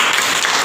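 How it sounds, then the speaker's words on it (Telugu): A congregation claps at a church worship service, a brief burst of dense, even applause from many hands. "చప్పట్లు కొట్టండి"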